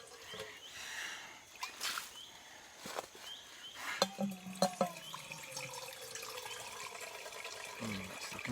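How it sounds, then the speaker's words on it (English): Water flowing in a stream on an outdoor walk, a steady soft rush with a few splashy bursts and brief knocks in the middle. "Water's running slow today."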